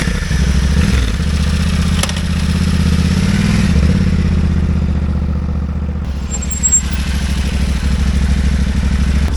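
A Yamaha Tenere 700 adventure motorcycle runs on a test ride after a chain adjustment, its engine droning loud and close with rises in revs and a faint clatter, and no talk.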